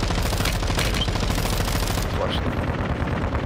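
Sustained machine gun fire in the shooter game Warzone, a dense continuous rattle of rapid shots filling the whole stretch, loud and close, with a player's voice speaking briefly over it.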